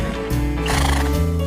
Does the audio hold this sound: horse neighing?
yes